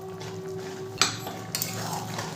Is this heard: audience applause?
no